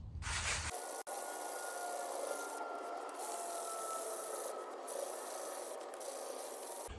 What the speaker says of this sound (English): So we get a sanding block here, and I'm just gonna get after it